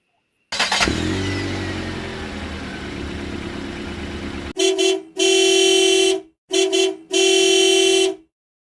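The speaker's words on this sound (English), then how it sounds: "because you love the honking horn" A honking horn sound effect: a long engine-like roar gives way to a series of four loud, blaring car horn toots in an uneven rhythm.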